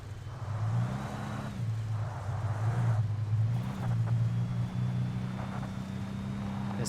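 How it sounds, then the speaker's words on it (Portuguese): A weak-engined car straining to climb a small slope in the video game Alan Wake, its low engine drone rising and falling in pitch as it labours, loud and continuous. "Esse carro tá com motor ruim"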